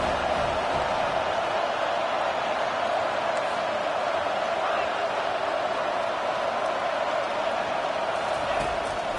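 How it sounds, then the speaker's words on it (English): A stadium crowd roars to cheer on the defense in an NCAA football video game, a loud, steady wall of noise that holds without pause from start to finish. "Decibels rising as the crowd gets behind this defense on 3rd down"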